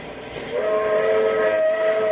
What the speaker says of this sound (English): It sounded like a train whistle.